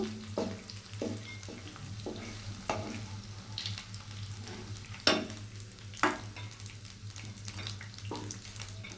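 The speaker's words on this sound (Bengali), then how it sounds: "দেখুন আমার চিকেনটা ভাজা প্রায় হয়ে গেছে" Pieces of chicken fry in hot oil for chicken fried rice, a steady soft sizzle broken by several sharp stirring scrapes and clinks of a utensil against the pan, with no one talking.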